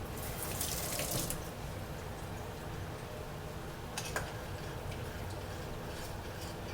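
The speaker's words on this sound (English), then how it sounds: "Let me rinse it off so that I can stir my cheese." Water from a kitchen tap runs steadily over a spoon being rinsed, a close continuous splashing stream with a few brief clinks, alone without talk.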